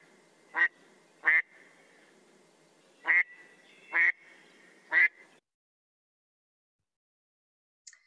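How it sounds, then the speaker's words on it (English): American black duck giving its classic quacking call: five loud, evenly spaced quacks close by, then silence and one faint short note at the end. "this is what an American black duck sounds like"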